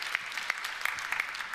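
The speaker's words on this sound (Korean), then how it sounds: "계속 이렇게 박수를 치시네요" A church congregation claps in a steady patter of scattered hand claps, moderately distant and fairly soft, with no voices over it.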